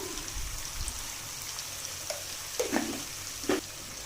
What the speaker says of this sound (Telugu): మనం ఫస్ట్ వాష్ చేసి పక్కన పెట్టుకున్న చేప ముక్కలు వేసుకోవాలి.